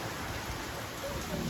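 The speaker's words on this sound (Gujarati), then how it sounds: "અત્યારે મારા ગામમાં ફૂલ હતી ભારે વરસાદ પડ્યા છે નેવામાંથી પાણી પડવા માંડ્યા છે" Heavy rain pours steadily in a village, with water running off the roof eaves, a dense continuous hiss close by with no voices.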